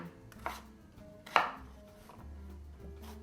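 A knife rough-chopping a piece of carrot on a cutting board, a few sharp separate chops with quiet gaps between them, close and fairly soft, with no talking.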